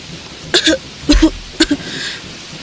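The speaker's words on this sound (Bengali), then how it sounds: "আজ তার স্ত্রীর কাশির পরিমাণ আগের তুলনায় অনেকটা বেড়ে যায়" Three short, raspy coughs in quick succession, close by and fairly loud, followed by a quiet breathy pause.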